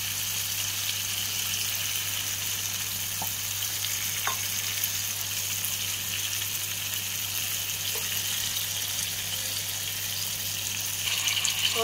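Tamarind paste for pulihora frying in hot oil, a loud continuous close sizzle with occasional faint ticks and crackles, steady throughout with no talking.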